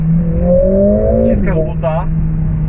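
Mercedes CLA45 AMG 390 HP engine rising in pitch after a downshift as the throttle is pressed hard, a steady climbing drone heard from inside the car, with someone talking over it.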